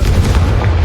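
An explosive spell blast in Hogwarts Legacy: a loud, deep, booming rumble with a heavy low end that fills the whole short moment, with no talk over it.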